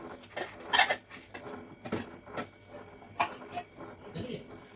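Homemade sambar ladled from a pot in a home kitchen, with a series of sharp metallic clinks and taps of utensils against the vessel, close and irregular, among soft background movement.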